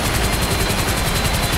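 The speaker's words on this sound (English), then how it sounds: "my helicopter seems like it's not making it. It literally sounds like it's about to die." A helicopter engine in the video game GTA 5 during a hurricane storm, sounding strained and struggling. It is a loud, continuous rapid rotor chop with a dense roar throughout.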